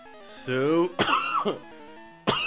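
A person who is sick gives a short, rough cough or throat clear, close and loud, between bits of their own speech.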